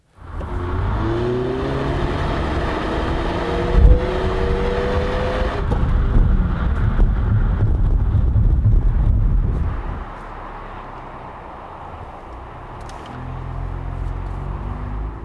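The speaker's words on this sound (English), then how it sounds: "let's check out the braking performance of Forte GT anyways." A 2020 Kia Forte GT on summer tires accelerates hard with a loud rising engine, then brakes to a stop in cold weather, the noise falling to a low hum with faint rumble.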